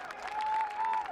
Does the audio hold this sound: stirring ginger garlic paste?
no